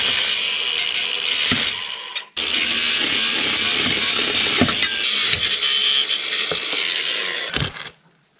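Loud, busy mechanical clatter of a ratchet removing a bolt from a Nissan 350z exhaust, with repeated clicks and metallic knocks, a brief gap partway through and a fade at the end.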